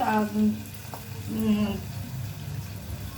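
Onion frying in a bowl of melted ghee, a steady soft sizzle and bubbling close by, with someone speaking over it.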